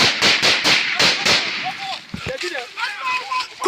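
Gunfire from firearms during an armed kidnapping confrontation in Nigeria, a quick run of sharp cracks at the start, then more scattered shots mixed with shouting voices and background noise.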